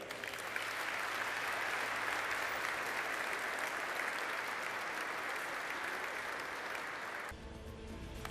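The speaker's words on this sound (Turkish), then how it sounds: "Güçlü alkışlarınızla." Crowd applause at a T625 Gökbey helicopter delivery ceremony: sustained, even clapping from a large audience that continues for several seconds, then cuts off sharply near the end.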